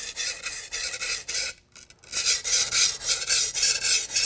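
A culinary knife edge drawn across a sharpening stone in close, rasping strokes, repeated in a steady rhythm with a short pause midway before the strokes resume.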